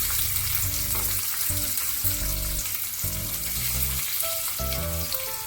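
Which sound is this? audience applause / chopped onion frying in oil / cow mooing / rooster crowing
chopped onion frying in oil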